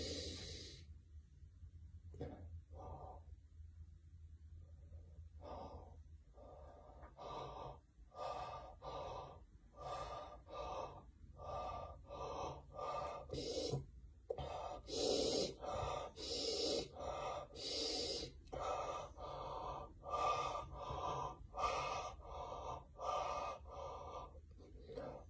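A person breathing in steam through the nose during a home steam inhalation, repeated sharp sniffing inhales and breathy exhales in a loose rhythm, close and fairly quiet, growing more frequent toward the end.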